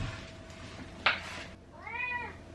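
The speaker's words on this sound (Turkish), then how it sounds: "Dur, dur kedim bir dur." A domestic cat meows twice indoors in a kitchen, a short sharp cry followed by a longer, wavering meow, close and moderately loud.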